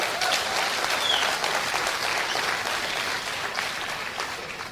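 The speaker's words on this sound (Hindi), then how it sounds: "इनके लिए जोरदार तालियां होनी चाहिए एक बार।" An audience at a Hindi-language diamond recognition event gives sustained, loud applause. The dense clapping carries on for several seconds and tapers slightly toward the end.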